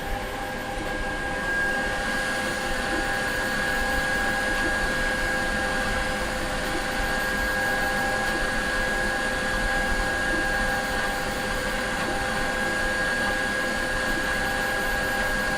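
A Centauri Carbon 3D printer runs at high speed, giving a steady whirring drone with a constant tonal hum throughout, fairly close and unbroken, no talk.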